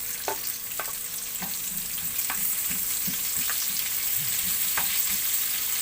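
Chopped onion fries in a pan while cooking ginataang mongo with upo, a steady close sizzle with scattered light clicks and scrapes of stirring throughout.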